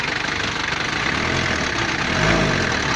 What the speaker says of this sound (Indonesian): Sudah itu kita tes, kita besar-besarkan ya gasnya.